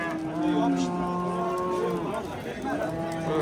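Cattle moo repeatedly, long low calls overlapping one another amid a busy crowd at a cattle market in Angren, with murmuring voices in the background.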